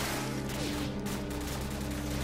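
Light machine gun fire in the shooter Call of Duty 4, a dense rattle of rounds blending into a busy battle din with a steady low hum beneath.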